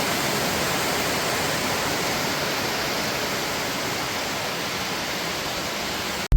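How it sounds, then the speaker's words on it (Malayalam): Heavy rain pours down steadily outdoors along a road, a dense continuous roar that holds evenly for the whole stretch with no voices. "കണ്ടോ, നല്ല അടിപൊളി മഴ."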